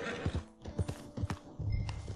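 Horse hooves clip-clop in Red Dead Redemption 2 as a rider heads back toward camp, several distinct hoof strikes at an uneven walking pace, fairly close, with a faint whinny-like tone near the end.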